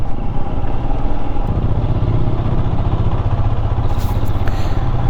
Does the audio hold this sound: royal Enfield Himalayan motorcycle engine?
yes